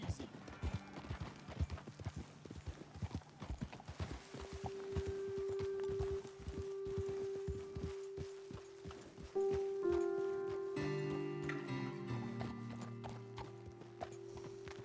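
Horse hooves clip-clopping at a walk in Red Dead Redemption 2, a steady, fairly soft rhythm of footfalls mixed with game ambience and held musical tones, with talk over part of it.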